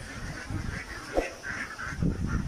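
Close, raspy honking calls from an itik duck come in uneven bursts, with a sharp knock partway through and background rustling as the bird is handled; no one speaks.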